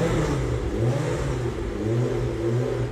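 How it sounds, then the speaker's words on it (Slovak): A tuned Škoda built from a Garde, fitted with a VR6 six-cylinder engine and shown at a Slovak car festival, gives a continuous loud engine roar with rising and falling revs close by. "Je to Škodovka, je to udělané z Garde a motor je tam z VR6, takový oblíbený motor 6válec."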